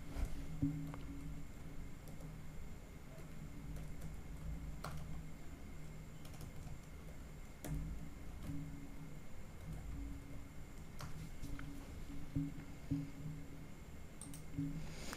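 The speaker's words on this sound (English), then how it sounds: "So I just want to type it here." Soft, irregular keypresses on a computer keyboard tap away faintly in a quiet room, with no talking.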